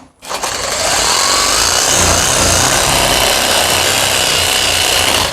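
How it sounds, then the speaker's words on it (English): A power sander works a wooden shutter up close, starting abruptly and then running as a loud, steady, broadband abrasive whir with no talk. "now I'm sanding up against this edge right here"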